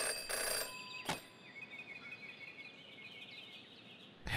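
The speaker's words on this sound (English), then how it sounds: "Jenny had learned never to ignore a ringing phone." Telephone ringing in the Jenny LeClue video game, a faint electronic trilling ring that sits quietly under a soft ambient background after a couple of brief thumps.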